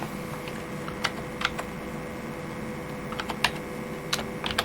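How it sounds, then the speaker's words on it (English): Keys clatter on a vintage IBM Aptiva computer keyboard plugged into a PC's PS/2 port, with scattered single presses and short quick bursts. The clicks sound close and crisp over a steady hum, and no one speaks. "today I'm just testing to see if my vintage IBM Aptiva keyboard works"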